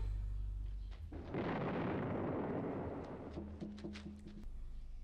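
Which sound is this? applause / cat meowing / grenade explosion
grenade explosion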